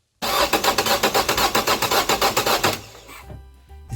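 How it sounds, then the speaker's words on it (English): A 1.7 CDTI diesel engine cranks with a rapid, even run of loud starter pulses for about two and a half seconds, then catches and settles into a low idle. "crank the engine a couple of times, and then you can connect them and start the engine"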